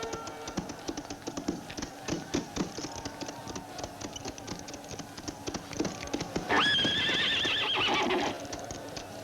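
Hooves clop in a steady rhythm close by, then a horse lets out a long, loud whinny near the end.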